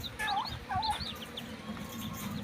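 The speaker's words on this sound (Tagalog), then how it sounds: "sisiw ng pabo" Turkey poults peep in short, high, repeated chirps, several calls in quick succession near the start and then sparser, with a low background rumble beneath.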